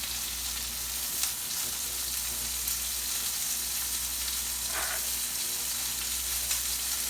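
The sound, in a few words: gnocchi and Brussels sprouts sizzling as they pan-fry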